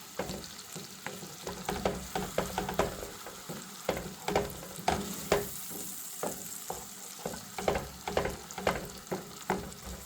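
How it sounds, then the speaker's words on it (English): Chopped onions fry in a pan over the heat, a soft sizzle broken by repeated, rhythmic scrapes and clatters as a utensil stirs them, close and fairly quiet. "we're going to cook these onions up"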